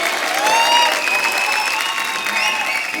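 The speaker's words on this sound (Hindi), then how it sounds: "एक बार जोरदार तालियां हो जाए।" Loud studio audience applause on a comedy TV show, dense clapping with whistles and cheers rising over it, continuous and close for the whole stretch.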